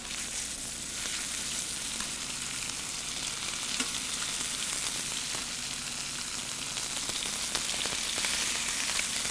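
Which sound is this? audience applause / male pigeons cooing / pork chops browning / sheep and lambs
pork chops browning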